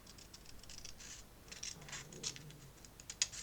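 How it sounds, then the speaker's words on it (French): Scissors cut through paper along a fold while crafting a pop-up album page, giving quiet, close, irregular snips and crisp rustles in short bursts with faint scratching between them. "Là, je commence déjà à couper sur le pli."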